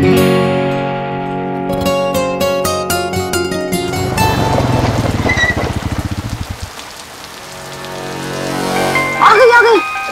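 Rain falls in a scene from a Hindi TV comedy episode, a hissing, steady shower that rises under music and voices, then fades as talking continues.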